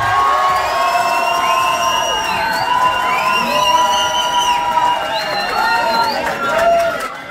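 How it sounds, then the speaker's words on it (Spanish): John Patrick's group gets a steady wave of crowd cheering and applause in a television talent show studio, high-pitched shouts riding over continuous clapping at close range. "Aplausos también para el grupo de John Patrick"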